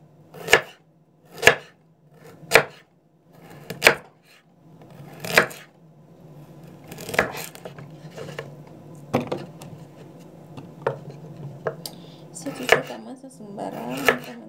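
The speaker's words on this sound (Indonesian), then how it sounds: "Iris saja wortel seperti ini." Carrots sliced on a cutting board, a knife striking the board in five crisp, evenly spaced chops up close, then quicker, lighter cuts with faint background noise.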